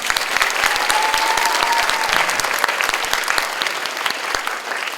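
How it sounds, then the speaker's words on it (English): An audience at a model debate tournament applauds a speaker, sustained even clapping from a sizable crowd with a few sharper individual claps standing out, holding steady for the full stretch. "Everyone, please give a round of applause."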